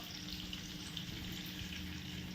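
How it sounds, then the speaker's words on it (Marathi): Fresh pomfret marinated in Malvani masala fries in a pan at a Devbag homestay in Konkan, giving a steady, even sizzle that holds unbroken and fairly close throughout. "देखो, मस्त ताजी पापलेट आम्ही फ्राय करत आहोत"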